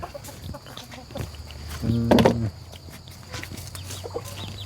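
Chickens cluck around a rural home, with one loud, close squawking burst midway over scattered softer clucks, background noise and faint voices.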